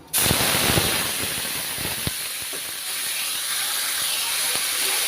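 Onion paste fries in hot oil with a loud, continuous sizzle and hiss close up, along with a few sharp crackles and spatters and no talking.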